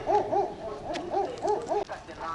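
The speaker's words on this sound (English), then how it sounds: "that song that you hear is coming from a garbage van" A garbage van in Gopalpur, Odisha, plays a looping song about collecting garbage: a repeated melodic tune in short rising and falling phrases, moderately near on the street, with faint outdoor background noise.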